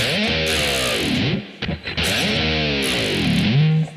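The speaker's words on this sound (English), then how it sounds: "And then we're going to go down with our whammy really quick," A distorted electric guitar sustains loudly, then a quick whammy bar dive bends the pitch down and back, with a brief choppy break in the middle.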